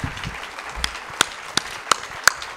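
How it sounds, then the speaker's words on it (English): A handful of scattered, distinct claps ring out at a literary festival session in Boulder, sparse and spaced about every third of a second, crisp and near, with little crowd noise behind them. "Big round of applause, please, for Molly Crabapple."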